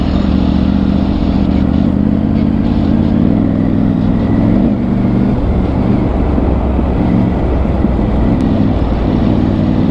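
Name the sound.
motorcycle engine while riding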